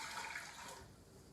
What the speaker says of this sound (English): I'm just gonna pour in the water.